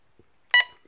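A carbon monoxide detector gives a single short, sharp electronic beep, loud and close in an otherwise quiet room, preceded by a faint tick.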